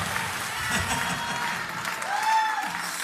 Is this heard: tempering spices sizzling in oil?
no